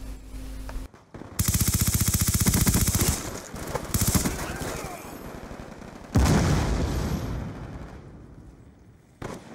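C4 blasts go off in a Black Ops 2 multiplayer match, each a loud, sudden burst of noise that decays slowly, amid rapid gunfire and game sound, with a voice talking over parts of it.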